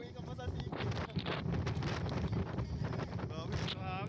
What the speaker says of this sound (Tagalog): Dami ng hangin.